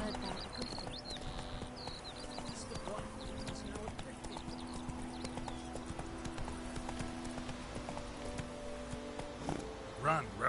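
Roach the horse's hooves clip-clop in a steady galloping rhythm in The Witcher video game, moderately close under a bed of tonal game sound, with faint voices near the end.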